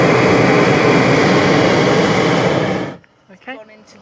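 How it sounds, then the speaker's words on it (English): A hot air balloon propane burner roars loudly and steadily for about three seconds during a pre-flight check, then cuts off abruptly, leaving brief talk in the quiet after. "And that's how you check a burner."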